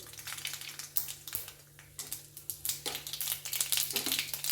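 Mustard seeds tempering in hot sesame oil in a kadai, a close, steady run of small crackling pops and sputters over a faint hum, with no talking.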